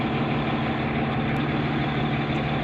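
A car engine idles steadily, a continuous low rumble with a constant hum, close and unchanging, with no talk over it.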